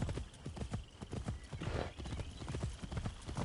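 Horse hooves clip-clopping in the video game Assassin's Creed Shadows, in a quick, steady rhythm, fairly close, with a soft whoosh in the middle.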